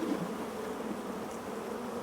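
A mass of honeybees being poured into a top bar hive gives off a steady, dense buzzing hum, moderately quiet and continuous, with no talking.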